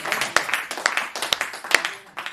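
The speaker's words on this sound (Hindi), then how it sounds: "दर्शक फारूक भाई का जोरदार तालियों से स्वागत करें" Sharp, uneven claps from a small group of audience members welcoming a performer at a Hindi comedy song event ring out in quick succession, steady and moderately loud, with a faint background murmur.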